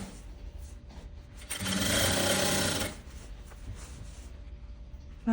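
A sewing machine runs a burst of stitching along a seam of a stand-collar vest, a steady buzzing whir for about a second in the middle that rises over quiet room noise and then stops.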